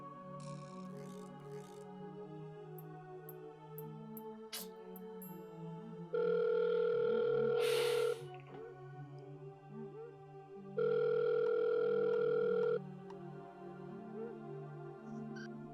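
Telephone ringback tone sounding twice on an unanswered call, two clear electronic ring bursts about two seconds long separated by a pause, over a faint background of music and room sound.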